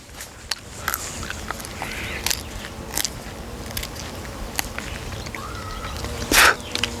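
Crunchy biting and chewing on a fresh twig from a miswak tree used as a traditional toothbrush, close and crackly, with irregular crisp snaps over an outdoor background with faint bird calls.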